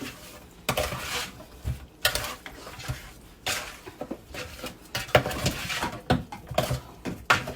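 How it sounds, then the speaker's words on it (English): A spoon scraping and clinking against a bowl while mixing seasoning into raw turkey necks, irregular bursts of knocking and scraping strokes at close range, with no talk. "You can mix it in with your hand, or you can mix it in with a spoon. I'm mixing it in with my spoon."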